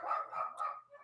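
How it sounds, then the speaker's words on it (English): Several dogs barking excitedly at home, a continuous run of overlapping barks and yips, fairly close and loud, with no talk over them. "my dogs are barking, going nuts."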